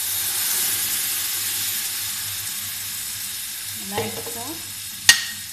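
Blended tomato hits a hot pan for a chicken and vegetable dish, giving a steady broadband sizzle with hiss and a little stirring, plus a brief clatter near the end under a few spoken words.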